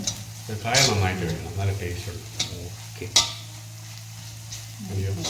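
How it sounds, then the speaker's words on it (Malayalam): Green papaya pickle being stirred in a pan while asafoetida powder is tapped in: soft scraping and clinking of a spoon against the vessel with a faint sizzle, broken by a couple of sharp metallic taps, all close up. "നമ്മുടെ ഒരാൾ ഇളക്കുന്നു ഒരാൾ പൊടി തട്ടുന്നു"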